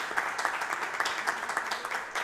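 Applause rings out for a women's project at a community event on domestic violence in Peruíbe, a steady patter of many hands clapping at moderate level, continuous for a couple of seconds.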